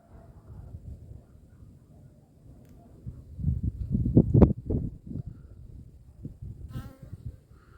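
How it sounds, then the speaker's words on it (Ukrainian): Bees buzz and fly around beehives outdoors in early spring sun, a soft continuous drone that swells near and louder midway as a bee passes close, then fades back. "Вийшов це допилювати, чую бджоли гудуть."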